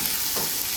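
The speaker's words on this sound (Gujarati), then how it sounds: "ડુંગળી અહીંયા સતરાઈ છે ને" Onions sautéing in oil with curry leaves and green chillies for a dosa filling, a steady dense sizzle with a faint stirring scrape, close and continuous.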